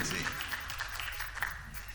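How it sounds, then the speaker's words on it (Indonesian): Audience applause for speaker Batara Sianturi, CEO of Citi Indonesia, at an indoor event: a steady, moderately faint wash of clapping lasting the whole stretch without a clear break. "boleh kita berikan tepuk tangan yang meriah untuk Pak Batara Sianturi"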